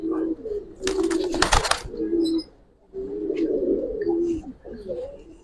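Giribaz pigeons coo in low repeated rolling calls, close by, with a brief burst of wing flapping early on and soft chirps between the coos.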